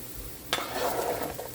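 Garlic cooking down in a pan as onions are added, a sudden stir or drop of ingredients followed by a steady close sizzle and scraping that carries on alone without talk.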